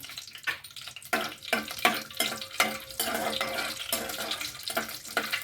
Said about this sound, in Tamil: நான் பட்டை, கிராம்பு எல்லாமே போட்டேன், முழு கரம் மசாலா ஃபுல்லாக போட்டேன். அது கொஞ்சம் நேரம் பொரியட்டும்.